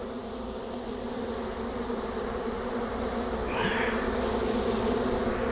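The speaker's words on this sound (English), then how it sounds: "on my shaker box there, I have some bees in there." Honey bees buzzing inside a shaker box used for a varroa mite sugar roll check, a steady close drone that grows slightly louder toward the end, with no talking.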